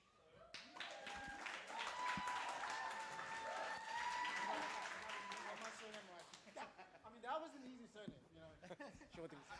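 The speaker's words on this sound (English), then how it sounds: "Round of applause for Gillian, everybody." An audience at a developer event bursts into sustained clapping mixed with chuckles and scattered voices, swelling then tapering off unevenly.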